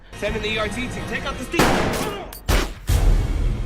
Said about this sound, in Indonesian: Namun saat ia berbalik, tiba-tiba Timmons menembak dadanya.